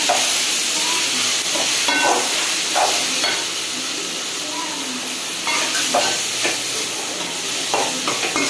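Chickpea paste and masala being sautéed in a pan for chana masala, a steady sizzle with repeated stirring scrapes throughout, close and fairly loud, with no talking.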